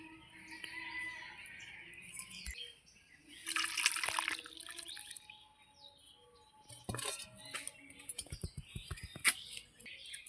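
Hilsa fish curry with potato, black cumin and green chilli is poured from the cooking pan into a bowl, giving soft, close, intermittent liquid splashes and drips with a few sharper clinks, over quiet kitchen background with faint chirps.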